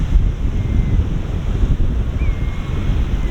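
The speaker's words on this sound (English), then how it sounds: "the tide wanders in, so it finds all the little crevices and cracks and seeps in before the waves can come in" Waves and an incoming tide wash over a rocky beach at Robin Hood's Bay, giving a steady rushing surf roar mixed with wind buffeting the microphone. No one speaks.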